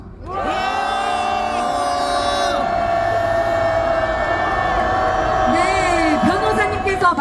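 A youth rally crowd at Gwanghwamun Square on the eve of the March 1st Independence Movement Day shouts together in one sustained, loud roar that lasts several seconds, with whoops rising on top.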